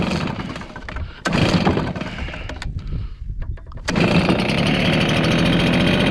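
A Stihl BR430 backpack blower with a power loss and bogging fault runs nearby. Its engine roars loudly, sputters and dips mid-way, then climbs to a steady, sustained high-revving drone.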